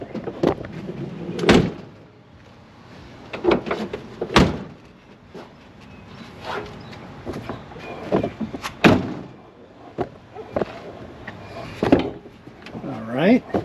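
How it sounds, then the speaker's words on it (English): A door shut after its seal was adjusted, with several sharp thuds and clunks spread out across the stretch, and a voice talking in between. "let's see if the door shuts"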